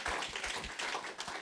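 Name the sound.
audience clapping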